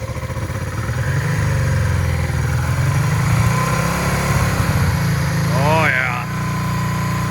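A donor motorcycle's engine, smoking as it burns off old fuel, runs in a loud, close, steady chug with a brief rise in revs, while someone speaks excitedly over it.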